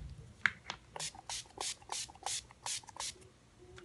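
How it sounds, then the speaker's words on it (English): A bottle of 10 Years Younger setting spray is shaken close up, giving a quick rhythmic run of soft sloshing rattles, fairly faint and with no talk. "Shake."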